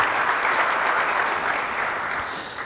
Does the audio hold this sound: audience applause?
yes